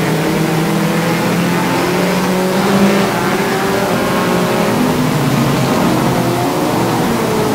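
Pure stock race cars roar around Flamboro Speedway, a dense, continuous engine drone held at steady high loudness with no break through the whole stretch.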